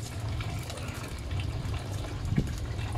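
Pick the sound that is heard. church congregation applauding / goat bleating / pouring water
pouring water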